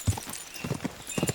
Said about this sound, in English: and then I mow him down with my horse